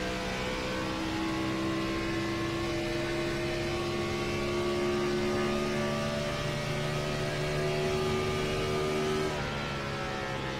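A NASCAR race car in a racing video game at Pocono, its engine droning steadily and loudly throughout with rising and shifting harmonic pitch as it accelerates, no talking.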